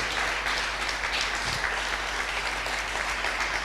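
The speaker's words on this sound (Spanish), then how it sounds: "Vamos, apláudale." A church congregation applauding during a sermon, dense sustained clapping from a large crowd filling the room, loud and steady throughout.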